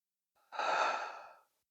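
A single slow, audible exhale during a yoga stretch, a soft breathy rush lasting about a second, close and alone in quiet.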